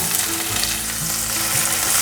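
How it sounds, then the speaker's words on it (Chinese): Red bell pepper stir-fried with minced ginger in a hot wok, a steady, loud sizzle with the scrape and toss of quick stirring throughout, no voices. "快速的翻炒，"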